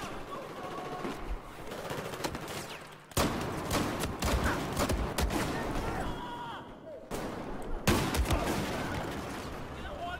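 Repeated bursts of video-game gunfire in a shooter, with loud crackling volleys and sharp onsets near 3 s and 8 s over continuous game noise; players talk over the action.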